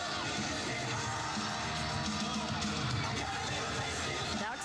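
A sellout arena crowd of mostly women and girls screams and yells continuously at a concert in Winnipeg, a dense, distant wall of cheering with no clear breaks.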